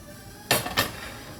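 Two quick metallic clanks of a cooking pan set down on a stovetop, close and distinct against a quiet kitchen background.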